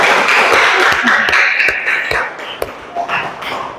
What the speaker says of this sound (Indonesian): Ayo kita tepuk tangan dulu.